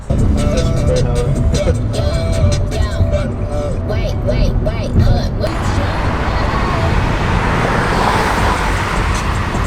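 Heavy, fast-moving traffic on a US highway, cars rushing past at around 70 mph, heard as a loud, steady roar of engine and tire noise with passing swells, continuous throughout.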